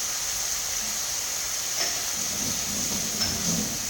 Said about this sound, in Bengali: এখন একটু নাড়াচাড়া করে কষিয়ে নেব।